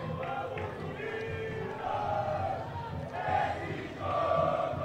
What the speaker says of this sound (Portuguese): Ergue o som a torcida do Unidos, incentivando a todo momento a sua equipe.